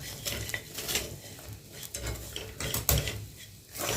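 Vermicelli roasting to golden in a pan, stirred with a spoon: a continuous scraping and clinking of utensil against metal with a light dry sizzle, close and steady, no voices.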